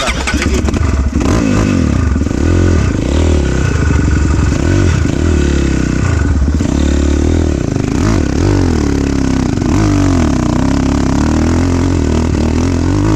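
A pit bike motorcycle engine starts and settles into a loud, close, continuous idle with revs rising and falling, a rough clattering mechanical drone filling the whole stretch, with a brief word spoken once.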